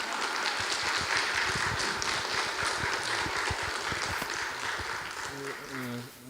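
A church congregation at a Lutheran Reformation anniversary service claps in a dense, sustained burst that fills the hall, then fades out as a voice begins speaking.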